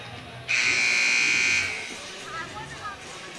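A loud electronic buzzer ends a high school boys' basketball tournament final, sounding as one steady tone for about a second before cutting off, with arena crowd noise continuing underneath.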